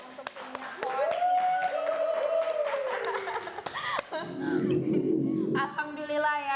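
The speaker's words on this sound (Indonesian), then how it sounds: "Tepuk tangan dong untuk timnya POSI." Scattered claps for the POSI medal-winning team sound close by, mixed with chuckles and continuous talking.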